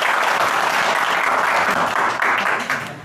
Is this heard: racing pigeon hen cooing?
no